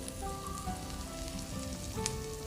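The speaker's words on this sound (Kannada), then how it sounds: "ಕಾಯ್ತಾ ಇದೇನು ಚೆನ್ನಾಗಿ ಚಟಪಟ ಅಂದಿದೆ." Hot oil tempering cumin seeds in a pan for simple dal gives a steady, close crackling sizzle with dense little pops throughout.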